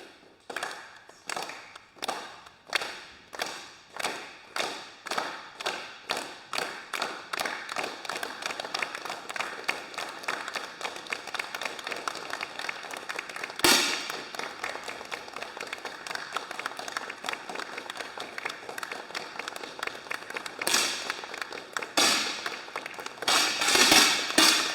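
Shots during a women's 10m air rifle competition final, many soft, sharp pops coming in quick, fairly regular succession, then growing denser with occasional louder thumps in a busy indoor hall.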